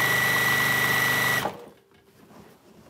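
A sewing machine stitches binding onto the trimmed edge of a quilt, a loud continuous mechanical whir running close by, then stopping abruptly halfway through and leaving faint room noise.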